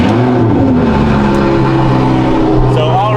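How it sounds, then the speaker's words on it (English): Crashed, rebuilt Lamborghini engine starting up and idling, a loud, steady low rumble with a rising tone near the end, close up, with a voice talking over it. "let's get a decently cold start as we lose daylight"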